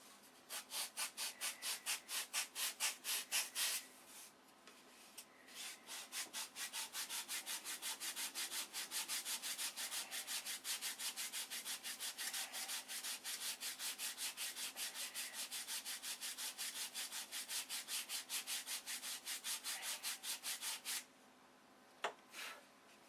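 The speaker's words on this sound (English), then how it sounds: "I don't want to bore you with sanding this for hours" Rhythmic back-and-forth scraping of sandpaper on a wooden model airplane part, sanded by hand, close and steady, with brief pauses between runs of strokes.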